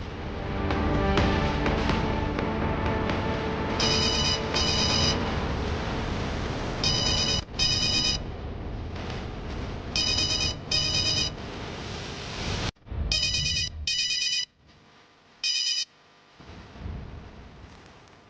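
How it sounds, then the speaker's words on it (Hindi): A telephone rings in repeated paired bursts, moderately loud over a musical background, with the rings growing more spaced out toward the end. "मैं अभी की अभी दाइमा को फोन करता हूँ"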